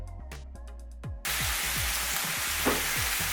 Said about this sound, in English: Once our carne asada meat has begun to cook pretty good